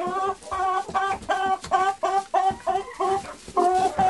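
Farm hens cluck in a quick, repeated series of close, fairly loud bursts beside a straw-lined egg-collecting spot, with no talking.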